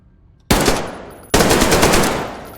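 Rapid automatic rifle fire in Metro Exodus, two loud sustained bursts of quick repeated shots, the second longer, with no talk.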